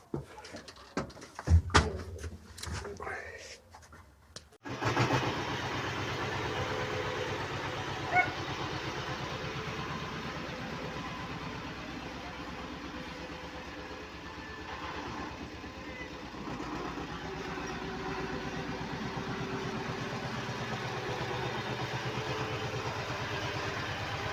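A few sharp knocks and clatters, then a tractor's steady engine rumble idling and running continuously for the rest of the clip, fairly close.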